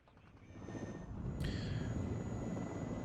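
Su-25 Frogfoot attack jets carrying cluster bombs fly in during a WARNO battle, a low rumbling jet roar that swells steadily and holds loud and continuous, with a brief high whine partway through.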